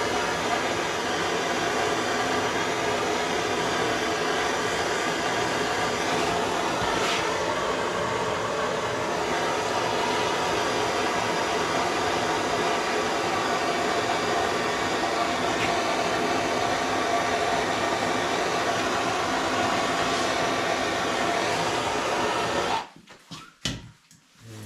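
A heat gun or torch roars in a steady, loud, continuous blast while warming the end of a 3/4 inch PVC pipe for a snow plow blade, cutting off abruptly near the end.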